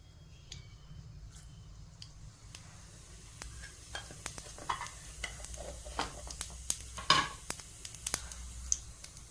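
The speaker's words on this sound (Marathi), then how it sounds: "जिरे मोहरीची फोडणी द्यायची आहे" Cumin and mustard seeds tempering in hot oil for dhokla, starting as a faint low sizzle and building into scattered popping crackles and sharp snaps.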